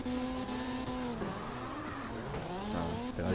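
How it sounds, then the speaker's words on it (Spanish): A drift car's engine revs and strains in CarX Drift Racing, a loud, continuous wavering whine rising and falling with throttle, alone without talk. "me suena mal el coche y todo"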